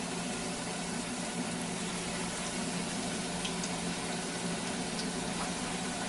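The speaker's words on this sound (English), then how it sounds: "So now I'm gonna fry the tortilla chips that I made." Homemade corn tortilla chips frying in hot oil, a steady dense sizzle and bubbling that holds evenly throughout with no talk over it.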